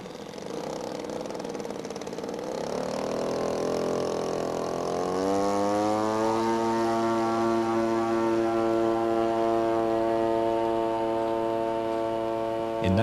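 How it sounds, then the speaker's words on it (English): A radio-controlled 1929 Supermarine S5 model plane weighing 43 pounds, powered by a G62 engine, drones loudly. Its pitch climbs as the engine revs up, then holds a steady, buzzing high note. "It's powered with the G62 engine"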